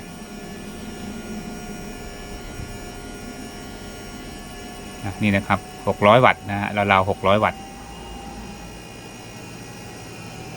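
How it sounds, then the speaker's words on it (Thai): A worn, stiff cooling fan in a 1000W grid-tie inverter gives a steady whirring hum throughout, with someone speaking briefly over it midway. "แต่พัดลมมีเสียงดังเนาะ"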